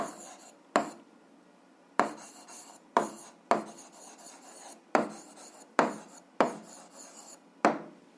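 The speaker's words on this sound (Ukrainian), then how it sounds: "записуємо відповідь" A pen writes an answer on paper in about eight quick, scratchy strokes, each starting sharply and trailing off, close and fairly quiet with pauses between them.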